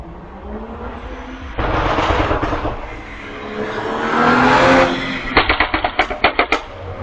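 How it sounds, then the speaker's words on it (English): A BMW exhaust with a burble tune rumbles through engine revs, then a rapid series of sharp crackling backfire pops near the end, loud and close. "the vehicle was backfiring of some sort"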